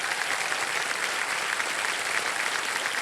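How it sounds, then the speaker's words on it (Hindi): Steady, dense applause from a TV quiz show studio audience, continuous and even throughout with no voices standing out. "एक बार जोरदार तालियों के साथ इनका भी स्वागत किया जाए"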